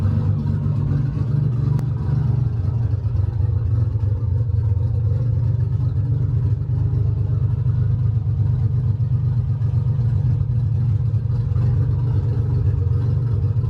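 Deep, steady idle of a 1988 Nissan 300ZX Z31 engine, loud and close, holding an even low rumble throughout with no revving or voices.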